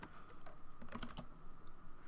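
Quick, light keystrokes on a computer keyboard, a steady run of soft close clicks with a few bunched taps near the middle.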